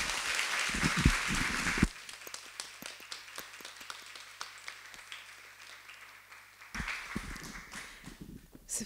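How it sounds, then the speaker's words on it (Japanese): An audience at a university lecture event welcomes a performer back with a burst of applause that drops after two seconds to scattered taps and claps, then swells again briefly near the end, all fairly quiet. "拍手でお迎えください。"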